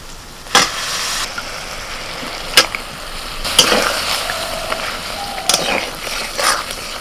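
Boiled mutton trotters being stirred into a pot of cooking lentils, with a steady sizzle and repeated scraping stirs that knock against the pot at irregular intervals.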